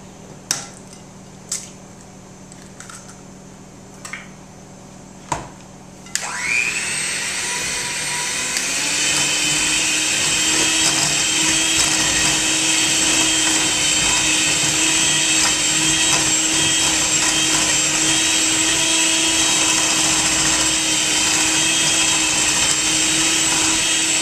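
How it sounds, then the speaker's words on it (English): Electric mixer beating eggs one at a time into creamed butter, sugar and shortening: a steady, loud motorized whir that starts abruptly after a few light knocks and runs continuously without talk. "you're going to beat in your eggs individually"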